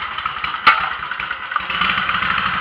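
A Scag or Kubota walk-behind mower engine starts with one sharp pull-start clack, then settles into a loud, steady close-up idle rumble with no talking.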